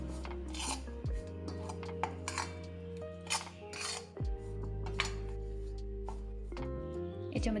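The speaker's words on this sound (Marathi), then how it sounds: "हे सगळं छान असं मिक्स करून घ्यायचं आहे." Ground peanut stuffing with salt and spices being mixed for stuffed bhindi, a steady rasping, rubbing stir with occasional light clinks of a utensil against the bowl, close and continuous with no talking.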